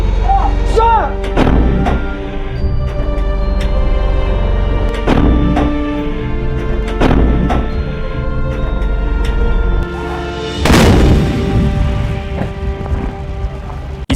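K9 self-propelled howitzer firing in a live-fire drill: several heavy, booming blasts spaced a few seconds apart, each followed by a rolling rumble, with the last shot the biggest and closest.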